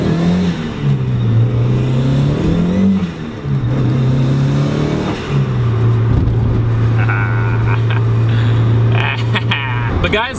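A Mazda Miata engine with a restrictive exhaust drones steadily from inside the car, its revs rising and falling, while a person talks throughout.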